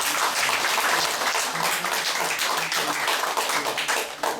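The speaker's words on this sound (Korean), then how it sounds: "큰 박수로" At a history lecture in a heritage society classroom, about sixty attendees applaud the speaker with loud, sustained, dense clapping, while a voice murmurs faintly underneath.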